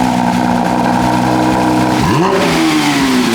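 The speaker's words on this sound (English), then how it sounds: "we're starting the GT3 up right now, and we're gonna hear how this thing sounds stock" A stock Porsche 992 GT3 engine fires up and revs, its loud, steady mid-pitched drone swelling into a rising, climbing rev partway through before easing back, heard up close.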